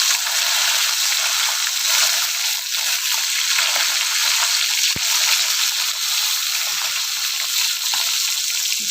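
Lote fish (Bombay duck) frying in a pan on a gas flame for bati chorchori: a steady, close, even sizzle with faint bubbling runs throughout, and nobody speaks.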